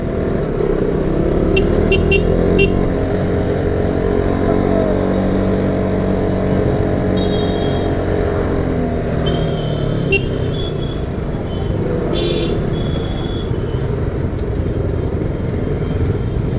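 A vehicle engine hums steadily while driving on a road in Arakkonam, Tamil Nadu, a constant close drone with faint wind and road noise and no talk.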